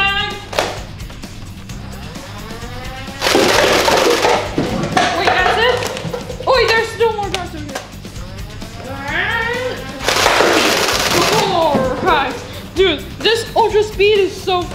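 A toy dart blaster emptying a full magazine in rapid fire, with loud, dense bursts of whirring and thumping shots in two long volleys, mixed with voices talking and reacting between them.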